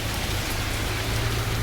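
Heavy rain pours down in a steady, dense downpour along the 304 road in Thailand, a continuous broadband hiss with a low rumble underneath and no pauses.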